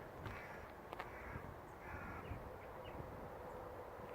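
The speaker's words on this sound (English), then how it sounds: "sounds of the birds" Crows caw repeatedly outdoors, a few harsh calls standing out over a steady rumble of background noise.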